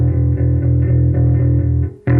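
Bass guitar played through a Sean Frankhouser TightDrive distortion pedal, a dense, steady overdriven low note sustaining loudly with slight pulses, then cutting out briefly before a fresh attack at the end.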